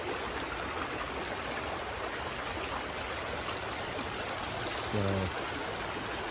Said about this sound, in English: you can see the water is coming down the path here